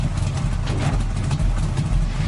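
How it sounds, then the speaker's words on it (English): A 1970s V8 muscle car engine runs with a steady, dense low rumble, holding a continuous loud drone throughout without clear rev peaks, near and alone. "He's revving his V8 muscle car from 1970s."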